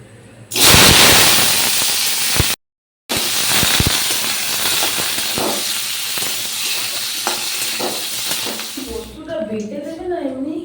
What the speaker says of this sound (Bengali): চলো আগে পনিরটা ভেজে নেবো অল্পই তেল দিলাম